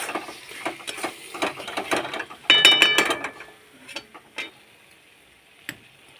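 A spatula stirs a pav bhaji vegetable mix with lemon juice in a pan, making a run of irregular close clicks and scrapes that come thickest in the middle, then thin out to a few isolated taps.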